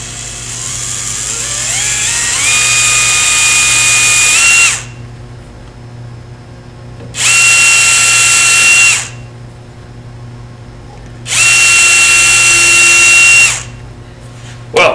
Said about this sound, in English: And now another carefully drilled hole.